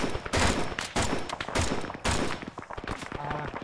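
Gunfire in the Arma 3 video game, with bursts of loud, sharp shots fired in quick succession and some distant reports. Voices talk over the firing.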